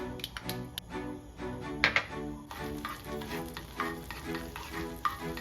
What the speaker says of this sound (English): Turn on the heat. Add butter to the pan.